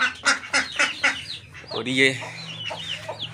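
A hen with a newly hatched chick clucks in a quick series of short, close calls, followed by a louder squawk, with someone speaking briefly in Hindi over the birds.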